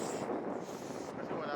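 Wind blowing across a beach on Boracay, a steady, loud broadband rush buffeting close to the microphone throughout.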